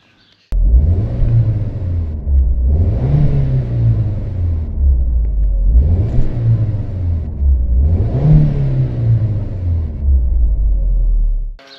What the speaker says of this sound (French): Le moteur du Crossfire.